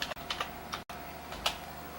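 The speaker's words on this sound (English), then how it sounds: "type in your item," Quick, light clicks of typing on a computer keyboard come in short bursts with brief pauses, quiet and close, with no talk.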